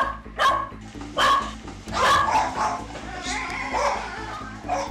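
Several pet dogs bark and yip in sharp, repeated bursts at close range during feeding time in a crowded home, with whimpers between the barks.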